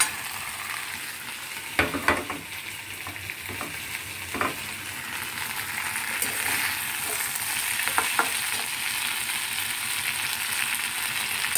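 Fried bitter gourd and lentil dumplings tossed into spices in a pan for sukto, with a loud continuous sizzle and several sharp spatula scrapes and knocks early on, then steady frying.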